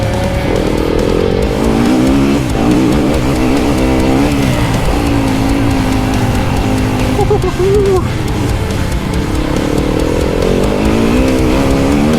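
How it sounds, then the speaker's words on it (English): A small two-stroke pit bike engine revs and buzzes continuously and loudly on a motocross track, the pitch rising and falling as the throttle opens and closes, with nearby riders adding to the engine drone. "this is a bloody pit bike"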